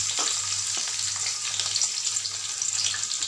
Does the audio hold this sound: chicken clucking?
no